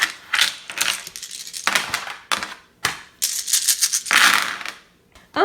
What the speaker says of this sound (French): un des joueurs va commencer par lancer tous les dés blancs.